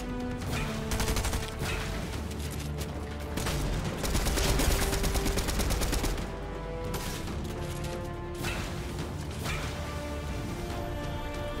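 Gunfire in a Fortnite solo cash cup match: a steady, loud run of rapid shots and bursts with some crashing impacts, building to a heavier burst near the middle and carrying on without pause.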